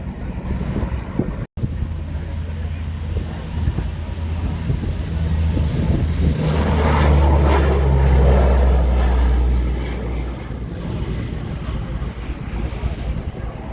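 An Austrian Air Force C-130 Hercules flies overhead at the RIAT 2022 air show. Its low propeller drone swells over several seconds and then fades, with wind buffeting the microphone.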